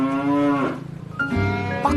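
A cow moos loudly at close range, two long drawn-out lowing calls one after another with no talk over them.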